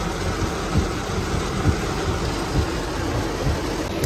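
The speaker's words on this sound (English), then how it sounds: "It is pouring down." Heavy rain pours down steadily on a college move-in day at Georgia Southern University, a dense, loud, continuous hiss with faint low thumps and no talking.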